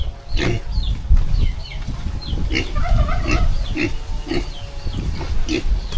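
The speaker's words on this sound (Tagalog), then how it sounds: "Ito yung natitira kong biik." Piglet on a farm grunting, with short repeated snorts and oinks spread across the stretch, close and fairly loud over rustling, with birds and chickens faintly around and some background talk.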